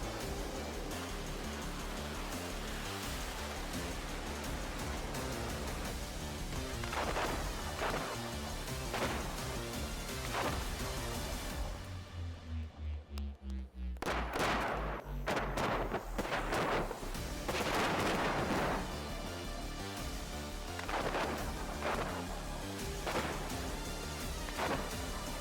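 Missile strikes and explosions in Ukraine war footage from Iranian drones and ballistic missiles, a dense, loud roar of blasts and rumbling impacts with a short dip before more heavy booms.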